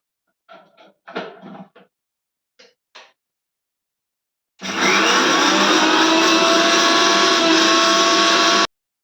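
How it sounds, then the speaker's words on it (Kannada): Short clatters of handling give way to a mixer grinder switching on and whirring loudly and steadily while it grinds fenugreek and curry leaves, then cutting off abruptly. "ಮೆಂತ್ಯ ಮತ್ತು ಕರಿಬೇವು ಎರಡು ಕೂಡ ಮಿಕ್ಸಿಗೆ ಹಾಕ್ಬಿಟ್ಟು ಗ್ರೈಂಡ್ ಮಾಡ್ಕೊಳ್ಳೋಣ"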